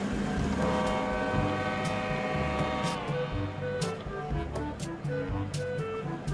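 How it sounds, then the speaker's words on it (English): A train rolls past in the railway game Rails Unlimited, a loud, steady rumble with layered horn-like tones and repeated sharp clicks, continuous throughout without speech. "It means there's a train."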